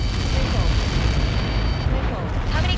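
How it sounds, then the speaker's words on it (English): A missile strike in the flight game Ace Combat 7 detonates as a sustained, loud roaring blast with rumbling debris that fills the whole clip and fades slightly toward the end. "How many got caught in that explosion?"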